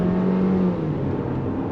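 A 2024 Chevrolet Equinox RS compact SUV under throttle, its engine droning loudly from inside the cabin in a brief, steady pull.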